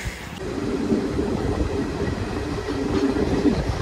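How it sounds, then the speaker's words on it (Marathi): A train rumbles at a railway station on the Konkan route, a loud continuous low rolling drone with a faint sustained squeal. "तर फायनली आता आम्ही पोचलोय रेल्वे स्टेशनला"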